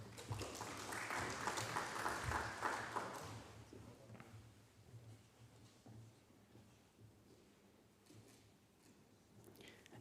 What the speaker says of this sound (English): If we can give all our cricket players another round of applause.